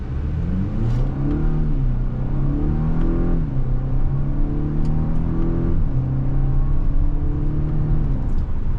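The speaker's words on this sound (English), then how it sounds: "Now we are going to go to sport mode. We'll put this in manual and we'll shift with the paddles." A 2025 Acura RDX A-Spec SUV accelerates hard in sport mode with manual paddle shifts, its engine droning loud and steady inside the cabin and rising in pitch through several gear changes.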